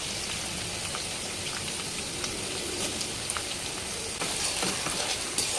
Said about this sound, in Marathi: अद्रक आणि याला चांगलं परतून घेऊया हे.